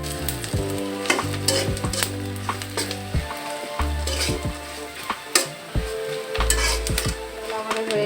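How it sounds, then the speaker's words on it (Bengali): Cumin, cloves and spices frying in a pan, a loud close sizzle broken by frequent metallic clinks and scrapes of a spoon against the pan in an irregular rhythm. "দিয়ে এটাকে আমরা আরেকটু ভাজবো"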